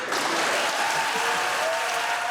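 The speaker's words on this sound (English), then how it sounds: "Cheers erupting in the chamber." Dense, continuous applause with cheering fills the Senate chamber after a Supreme Court confirmation vote, a steady roar of many hands clapping with no pauses.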